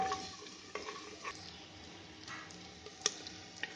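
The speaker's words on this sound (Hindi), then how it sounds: "लहसुन अदरक और मैंने प्याज डाल दी है। बस 2 मिनट इसको मैं भूनूंगी हल्का सा, ताकि इसका अरोमा आ जाए बटर में।" Garlic, ginger and onion sautéing in butter, a soft steady sizzle with occasional light ticks and taps of a utensil against the pan, close and quiet, no talking.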